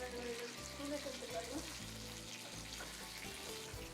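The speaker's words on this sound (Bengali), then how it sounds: "আমার মনে হয় মাছ প্রায় ভাজা শেষ" Fish fry in homemade palm oil with a soft, faint steady sizzle under a low background hum, fairly quiet and continuous, with no one speaking.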